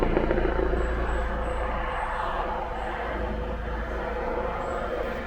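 A police helicopter flies nearly overhead, its rotor and engine making a loud, steady, continuous roar that holds throughout with no talk.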